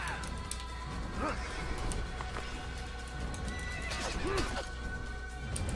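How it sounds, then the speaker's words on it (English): A horse in the Assassin's Creed video game whinnies twice, with a sharp neigh early on and another toward the end, while hooves clop and scrape close by against a busy game background. "Get on horse."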